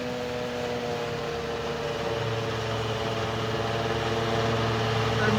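A harvester chopping napier grass into fodder gives off a steady mechanical drone, fairly quiet and unbroken, like a distant engine running at an even pace.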